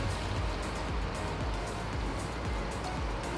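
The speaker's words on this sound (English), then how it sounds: "And there's our sink water coming up." Waste water from an RV sink tank gushes steadily through a dump hose, a continuous rushing wash with low surging pulses, close and fairly loud with no talk.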